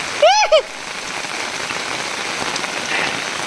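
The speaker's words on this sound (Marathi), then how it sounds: "माझं स्वागत केलं ना पावसान बघा धो धो वाढता" Heavy pouring rain drumming steadily on surfaces in a downpour at Kankavli railway station in Konkan, a dense continuous wash of drops heard close, with a brief voice-like tonal sound at the very start.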